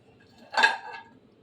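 Prawn cutlets set down on a plate in a home kitchen give one short burst of clinking dish and utensil contact, near and clear against a quiet room.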